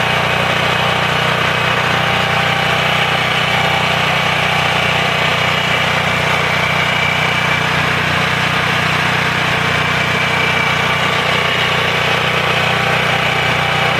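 A small engine, like a lawn mower's, idles steadily with a loud, constant buzzing drone that holds unchanged throughout, alone and close to the microphone.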